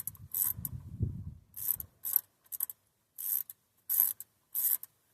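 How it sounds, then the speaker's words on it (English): Ratchet wrench backing bolts off a second-generation Dodge Ram truck engine, heard as several short bursts of rapid metallic clicking, close and fairly quiet, separated by brief pauses. "y'all don't want to see me take bolts out"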